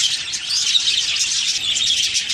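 Budgerigar chicks chirp in a colony nest box. A dense, continuous stream of thin, high-pitched peeping comes from close by, with no voices.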